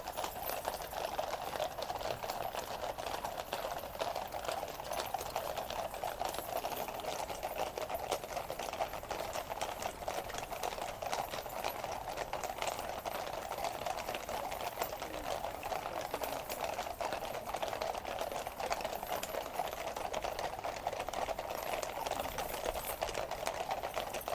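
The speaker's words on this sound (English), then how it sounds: "It's when there's a whole troop of horses, it just sounds like nothing else." Hooves of a whole troop of royal cavalry horses clip-clop in a steady, dense patter at an outdoor inspection, a continuous moderate rush of overlapping hoofbeats with no voices.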